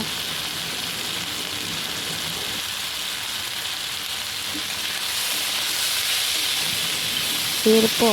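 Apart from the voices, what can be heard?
chow mein stirred in a pan with spices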